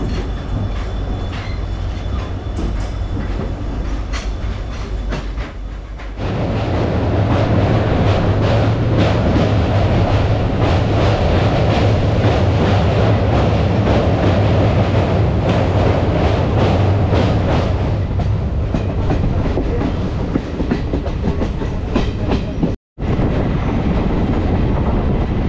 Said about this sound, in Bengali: এই যে আপনাদের চোখের সামনে দিয়েই কারণটা পাস করছে। যেহেতু এখানে সিঙ্গেল লাইন, তাই এই মালগাড়িটির সাথে ক্রসিং করানোর জন্য